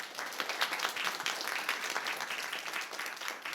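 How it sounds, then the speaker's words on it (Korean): Church congregation clapping together in sustained applause, a dense, steady wash of many hands filling the sanctuary for several seconds without a break. "하나님께 큰 영광의 박수 올려드리겠습니다"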